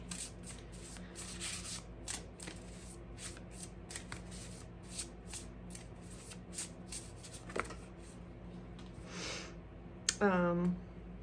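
An oracle card deck is shuffled by hand with a quiet run of soft riffling and rubbing strokes, ending in a brief sharper card snap, all close and faint.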